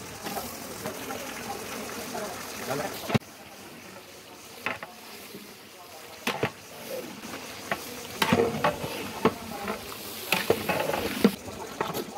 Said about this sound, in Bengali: এই যে এখন মশলা কষানো হচ্ছে এবং এটাতে চিকেন মিক্স করা হচ্ছে।